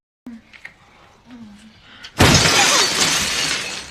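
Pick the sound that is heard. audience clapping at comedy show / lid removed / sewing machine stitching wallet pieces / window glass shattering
window glass shattering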